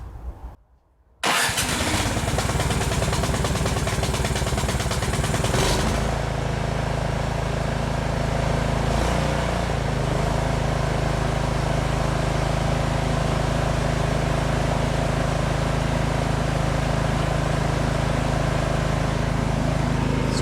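A Yard Machines snow blower engine pulls over and catches after a brief quiet moment, then runs loudly and steadily close by at a constant idle, a little throttle change early on, with no talk.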